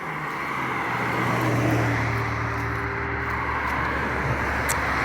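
Steady roar of cars on a countryside road, a continuous broadband traffic wash with low engine rumble, loud and close, no voices.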